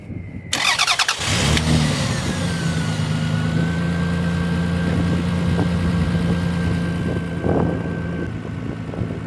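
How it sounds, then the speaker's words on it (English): A Lexus ES 300 engine, freshly fitted with new spark plugs after cylinder misfires, cranks and catches, then settles into a steady, smooth close-up idle with a faint whine and a brief blip partway through. "that's the engine up and running right there"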